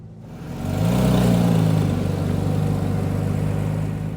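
A 2019 Porsche 911 GT3 Touring (991.2) engine runs while warming up: a loud, steady, low mechanical drone that swells up and holds near the listener, with no speech.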